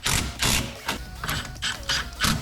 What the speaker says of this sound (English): Next we can tighten up the power steering or the rack and pinion bolts.